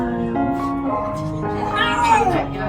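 A tiny kitten trapped inside an electric car's front compartment meows repeatedly and insistently up close, its high, wavering cries rising and falling with barely a pause between them.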